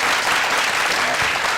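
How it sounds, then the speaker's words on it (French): A studio audience claps loudly and continuously, a short, even burst of applause in a crowded room with no one talking. "On va applaudir pour tous les SDF parce qu'ils sont nombreux un peu partout."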